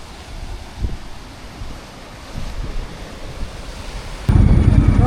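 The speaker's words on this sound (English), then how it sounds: "I'll show you the sea" Sea waves at Newcastle, a seaside village in Northern Ireland, a soft washing surf with occasional low thumps under wind, then heavy wind buffeting on the microphone takes over near the end.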